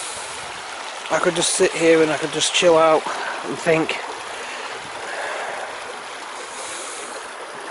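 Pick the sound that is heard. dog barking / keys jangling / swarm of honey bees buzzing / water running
water running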